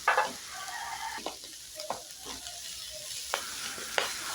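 Bitter melon (ampalaya) stir-frying in a pan, a steady sizzle broken by several sharp scrapes and clinks of stirring, with a rooster faintly audible in the background.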